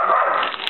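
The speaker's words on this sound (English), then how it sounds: "Don't mind the dogs, guys." A dog gives a short, close whining yip in a home kitchen, a single brief strained vocal sound lasting under a second.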